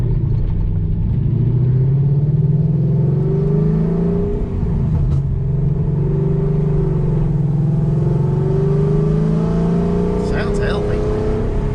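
A 2007 Mustang GT with a swapped-in Coyote V8 runs steadily up close, its engine note a continuous low drone with gentle rises and falls in revs. A brief click stands out partway through.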